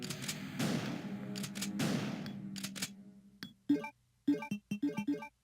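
Shotgun blasts in the video game Resident Evil 2, several loud shots with a few long rumbling booms first, then a quick cluster of sharp, punchy reports after a brief quiet pause.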